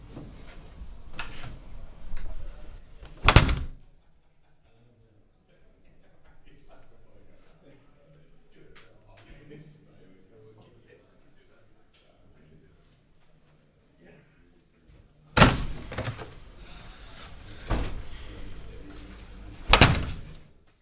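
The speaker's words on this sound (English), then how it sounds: "Close the door." An interior door is shut with a loud thud, followed by a quiet pause with faint rustling, then further sharp knocks and bangs close by, with voices talking in the background before and after.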